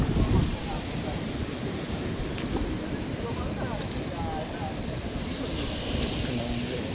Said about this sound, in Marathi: आणि समुद्र बघा किती खवळलं आहे,